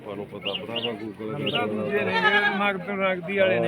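Goats bleating close by, wavering cries that overlap a man's speech and carry on through most of the clip.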